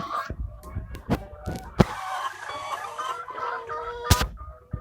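One-year-old hens cluck and murmur nearby in short irregular bursts during morning egg collection, with a few sharp clicks and knocks mixed in.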